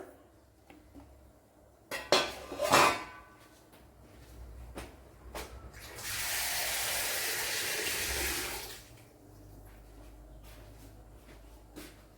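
Skin-on cut vegetables are rinsed in a home kitchen: scattered clinks and knocks of dishes, then about three seconds of steady running and splashing water, fairly quiet and with no talk.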